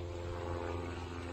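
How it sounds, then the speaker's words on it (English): Low, steady droning hum of an airplane engine, continuous and unchanging, like a plane passing overhead at a distance. "Got a plane flying overhead."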